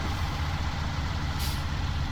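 A heavy truck engine idles in a steady low rumble in a video game, broken by one short, sharp burst of air hissing from the air handbrake.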